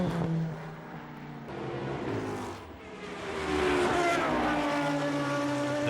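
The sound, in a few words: Le Mans prototype race cars passing at speed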